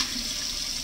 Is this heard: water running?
yes